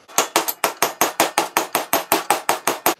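A hammer taps a half-inch drive extension to knock a part free, about fifteen sharp metallic strikes in a fast, even rhythm, loud and close with no talking.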